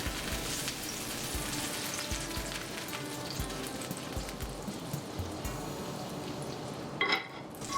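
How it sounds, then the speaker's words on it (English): A tablespoon of butter melts in a preheated pan and sizzles steadily and closely, with a brief clatter near the end. "I melted 1 tablespoon of butter in a preheated pan."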